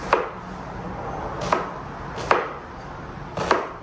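Onions are cut with a knife on a board, four evenly spaced, crisp chops about a second apart, close and clear over a faint background hiss.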